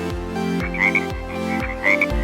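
Poison dart frog croaking, a loud close run of repeated rasping calls in pairs with a buzzy ring, about four calls in steady rhythm, alone with no talk.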